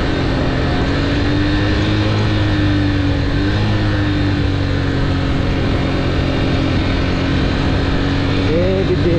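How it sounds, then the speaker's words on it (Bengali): A motorcycle engine drones loud and steady with a sustained whining tone as the clutch is eased out only a little while engine braking, the pitch wavering slightly, with a voice briefly near the end. "ক্লাসটা অল্প করে ছাড়লে বাইকটা কান্না করে দেয়"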